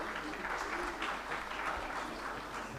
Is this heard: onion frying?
no